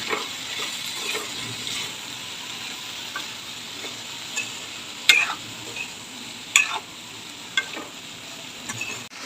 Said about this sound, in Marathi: मसाल्यामध्ये आपण बारीक चिरलेली कंट्रोली टाकून घेऊ। छान प्रकारे मिक्स करून घेऊया।